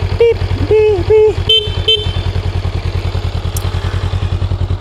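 A Honda Rebel 500 motorcycle idles with a steady low putter while its horn gives several short beeps, close and loud.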